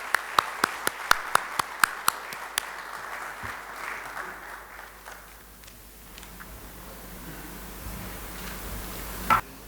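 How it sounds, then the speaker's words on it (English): Applause greets a speaker walking onto a stage: a few sharp individual claps ring out near at first, then a softer crowd clapping trails off into quiet room tone. "Give him a big round of applause as he walks onto the stage."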